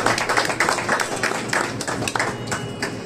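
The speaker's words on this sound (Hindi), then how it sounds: "उसके लिए हम जोरदार तालियां बजाएंगे।" A church congregation claps to welcome a young girl attending for the first time, a steady dense patter of many hands filling the room at moderate loudness, with faint voices mixed in.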